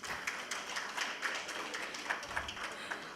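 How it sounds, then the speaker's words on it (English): Crowd applauding after a speech at a learning event in Dhaka, Bangladesh, a steady soft patter of many hands clapping at medium distance, with a brief low thump partway through. "can we get another round of applause"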